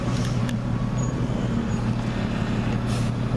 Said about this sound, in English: It's just the truck that was up in there.